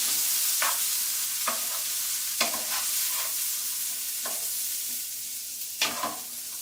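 Peas with garlic are stirred in a pan on a stovetop, a steady close sizzle of frying under several distinct scraping strokes of the spoon, with no voices.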